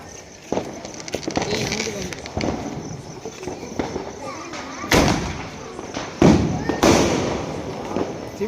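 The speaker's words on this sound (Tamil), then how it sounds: "மேலே போய் வெடிக்கிறது" Diwali fireworks launch and burst overhead, several sharp booms with crackling tails spaced a second or two apart, and people talk and call out between the blasts.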